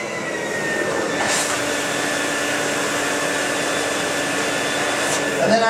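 A machine reversed to blow clean, fresh, aromatized air back into a cushion gives a steady, even whooshing roar that holds for several seconds, with a brief bump near the start and a rise at the end.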